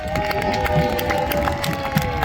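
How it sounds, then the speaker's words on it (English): A festival crowd at Arundel Castle's history event applauds and cheers Tudor-era costumed musicians, a continuous wash of clapping and voices with sustained tonal sound running underneath. "a round of applause for Master Stephen!"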